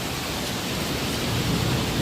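Heavy rain pours down outside an office in Hyderabad, making a dense, unbroken hiss that stays loud and even throughout with no voices.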